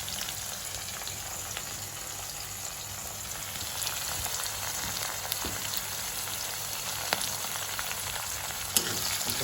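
Curry leaves fry with onions in a pan for a spicy Jaffna-style chicken curry, giving a dense, continuous sizzle with scattered small crackles and an occasional faint utensil tap.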